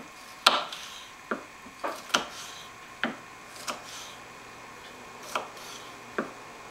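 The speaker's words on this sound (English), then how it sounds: "nice jalapeno bits, diced, more or less" Jalapenos being diced with a knife on a cutting board: a slow, uneven series of sharp, close knife taps, about a dozen chops spread out with short pauses between them.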